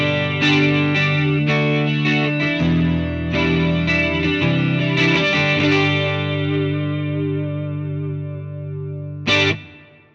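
Electric guitar chords strummed through a Fender Mustang Micro Plus ring out with a distorted, chorus-tinged tone, a handful of strums in quick succession before a long sustaining decay and one last short strum near the end.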